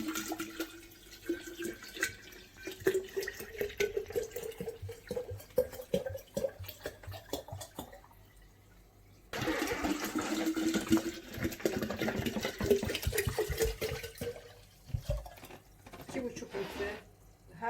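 Water poured from a 2.5-litre bottle over pickles in a jar, a faint, steady trickling and glugging that runs in two long stretches, with some quiet handling noise.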